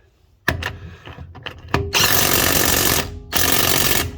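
An Avid Power 20V cordless impact wrench works at a wheel, a few short knocks and rattles leading into two loud, close hammering bursts of about a second each.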